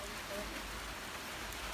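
Steady rain falls in a dense, even hiss with no breaks, moderately loud and close, like drops on a surface.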